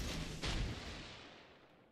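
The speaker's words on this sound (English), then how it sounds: "Anchorage firing AP" The American warship Anchorage fires AP shells in World of Warships Legends, a heavy, booming salvo that hits close and loud and then rolls away into a long, fading rumble.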